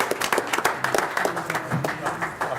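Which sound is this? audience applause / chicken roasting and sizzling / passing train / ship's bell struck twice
audience applause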